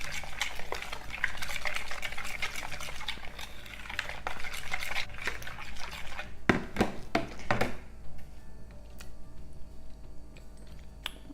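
Homemade ranch dressing with fresh basil, black pepper and salt being stirred in a bowl: a steady run of close clinking, scraping utensil strokes against the bowl, easing off near the end.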